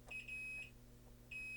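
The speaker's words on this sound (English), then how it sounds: "Now we'll do our continuity check across. One beep is fine." A multimeter set to continuity beeps while probing a Macintosh LC575 motherboard during recapping, giving two short electronic tones separated by a pause, with a low mains hum underneath.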